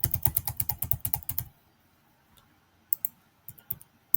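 A fast, close run of computer keyboard keystrokes while an email address and card details are entered, then quiet with a few scattered single key taps.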